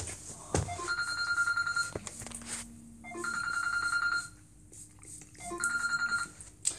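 A telephone rings in three repeated bursts of a bright electronic trill, moderately quiet, with short pauses of background hush between rings and no talking.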